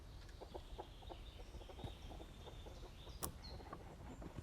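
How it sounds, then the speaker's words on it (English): A chicken clucking in a survival video game, with a run of short, fairly quiet clucks over a low background hum and one brief sharp click near the end. "Hey, why is there a chicken in here?"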